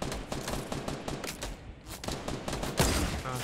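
Bursts of gunfire in Fortnite Battle Royale crack out in quick, dense volleys, loud and close, with a brief lull midway before heavier shots resume.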